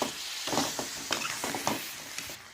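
A ground spice paste for a cauliflower and fish curry is stir-fried in a pan, giving a moderate sizzle with several sharp scraping strokes of a spatula at an uneven rhythm.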